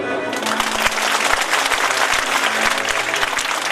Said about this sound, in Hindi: तो ताली बजा दो